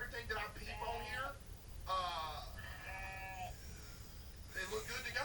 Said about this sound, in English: the goats, they are mad annoying.